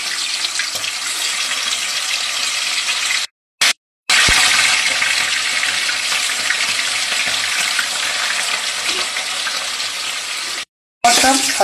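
Food frying in a pan for a fish kalia gives a steady, close crackling sizzle that runs throughout, broken by a few abrupt silent gaps, with no speech.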